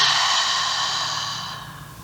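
Slow, deep exhalation during a yoga stretch, one long breath close to the listener that fades gently over about two seconds, with no talking.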